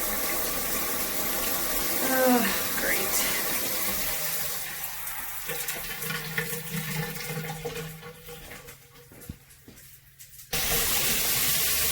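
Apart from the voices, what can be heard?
water spraying from shower diverter valve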